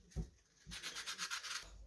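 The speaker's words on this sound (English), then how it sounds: "More sanding, I guess?" Rhythmic back-and-forth rubbing of sandpaper on a homemade spoon-headed lipless crankbait, about a dozen quick strokes after a couple of soft thumps, close and fairly quiet.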